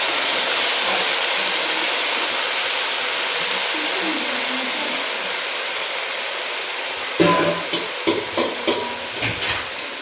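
Stem spinach stir-fry with salt crackles in a pan as a loud, steady hiss, then a spatula takes over with a run of rhythmic scraping strokes near the end.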